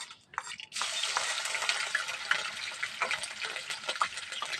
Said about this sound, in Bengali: এবার এর মধ্যে আদা রসুন বাটা দিয়ে দেবো